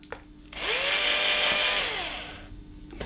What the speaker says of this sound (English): So I've finished drilling all my holes.